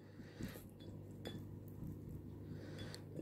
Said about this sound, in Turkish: Bu şekilde karıştırıyorum